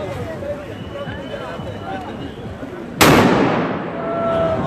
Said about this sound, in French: C'est une grenade assourdissante.